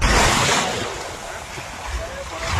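Fishing boats out on the sea among waves: a short, loud wash of surf and wind noise that swells and eases, with no clear voices.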